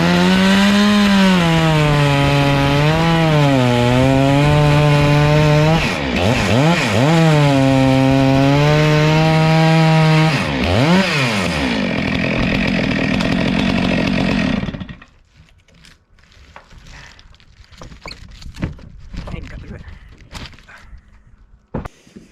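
A chainsaw runs loud and close for about fifteen seconds, its engine pitch rising and falling as it bites into wood and eases off, then cuts out, leaving quiet rustling and scattered small sounds of movement.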